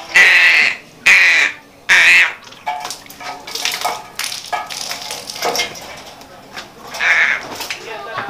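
A pet crow gives three loud, harsh caws in quick succession close to the microphone, followed by a person talking and a final caw near the end.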